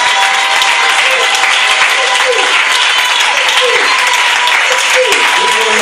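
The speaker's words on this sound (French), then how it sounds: "Quelqu'un acclame le Seigneur Jésus." Congregation in a church service applauding and acclaiming Jesus, a dense, steady wash of clapping that runs the whole time, with shouting voices rising and falling through it.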